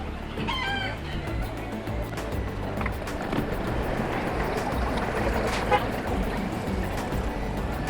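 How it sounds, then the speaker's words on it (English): Several roosters crow in the distance near a Key West beach, repeated calls rising over a steady outdoor background of traffic and wind. "There are the chickens in there,"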